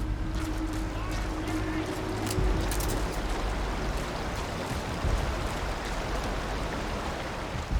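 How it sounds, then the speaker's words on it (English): Steady rain hiss in the video game Metal Gear Solid V: The Phantom Pain, a continuous dense wash with a low rumble, under radio chatter and game sounds throughout. "Caution, rain approaching."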